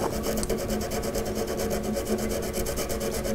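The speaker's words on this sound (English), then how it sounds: "So a little bit of sandpaper and just true that up just a little." Sandpaper rubs steadily back and forth over a welded plastic filament bulge, a close, soft rasping scrape in a quick even rhythm with no voices.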